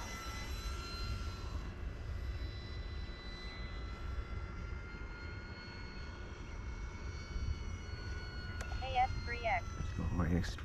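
An Arrows RC F4U-4 Corsair 1100mm electric model airplane in flight gives a faint, distant motor whine over steady wind noise. Someone talks near the end.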